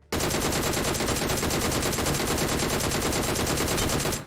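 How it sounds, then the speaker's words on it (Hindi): Rapid automatic gunfire from a video game shooter, a dense continuous burst of shots lasting several seconds at close range, loud and steady with no talking. "पीछे से भी गोलियां चढ़ रही हैं"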